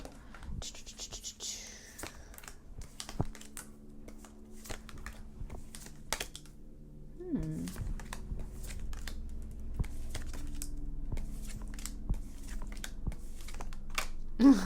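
A tarot deck is cut and its cards laid out on a surface, producing soft close taps, slides and papery rustles that come in scattered bursts and grow busier toward the end.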